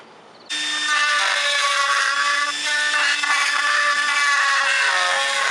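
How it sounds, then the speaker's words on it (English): A Dremel rotary tool cuts a hole in a Jeep Wrangler dash, starting abruptly after a short pause and then whining at high, steady speed, loud and close, with slight changes in pitch as it bites into the plastic. "I went pretty buck wild with the Dremel tool and I made a pretty decent sized hole"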